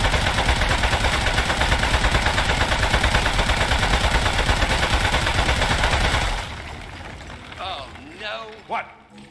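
Sustained rapid gunfire rattles loudly and densely in a video game while a metal-headed boss is fought, stopping abruptly after about six seconds and leaving quieter electronic whirs and chirps.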